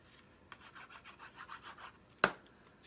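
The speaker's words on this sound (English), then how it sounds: "Now I've already folded this in half and I'm going to burnish it with my bone folder." Bone folder burnished along folded black cardstock, a quiet rhythmic rubbing of about a dozen soft strokes followed by one sharper scrape or tap near the end, close and alone.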